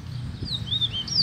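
A coleiro songbird sings a few thin, high whistled notes, rising and sliding, close but fairly soft over a low background rumble.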